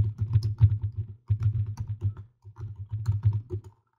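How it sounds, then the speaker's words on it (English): Rapid clicking of computer keyboard keys in quick bursts with brief pauses, close and fairly soft, typing a code into a chat during an online natural personal care workshop. "Let me type that in the chat room"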